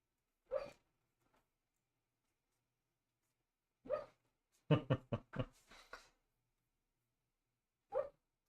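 A sleeping, dreaming dog makes soft, short whimpering yips and muffled barks in scattered bursts, including a quick cluster of several, separated by silence.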